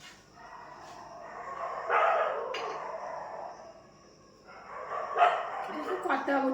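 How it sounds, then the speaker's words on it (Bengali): A dog barks and howls in drawn-out bursts at a middle distance, with a pause between the two outbursts, while a person talks over part of it. "কুকুরটা চিৎকার করছে আবার"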